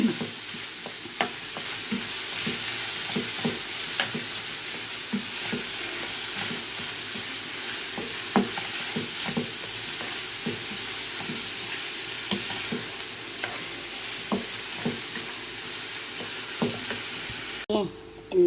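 Onions frying in a pan with salt, paprika, black pepper, nutmeg and a pinch of cinnamon, a steady bright sizzle with frequent stirring clicks and scrapes, close and continuous, no talking.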